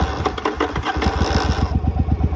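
A warm motorcycle engine turning over and catching, settling into a loud, close, rapid idle pulse with no voices over it.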